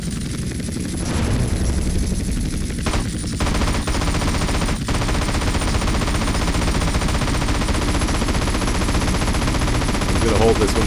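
Aircraft-mounted machine guns fire in rapid continuous bursts in GTA San Andreas, layered over a steady droning engine and rotor roar that stays loud throughout.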